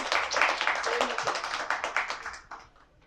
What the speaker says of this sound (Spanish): un fuerte aplauso para Sandra, por favor.